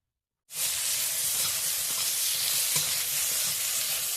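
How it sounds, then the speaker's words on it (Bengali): Eggplant pieces hit hot oil and set off a sudden loud, steady sizzle that holds for several seconds, with a few faint stirring clicks and no talk. "বেগুনটাকে ভালো করে ভেজে নেব"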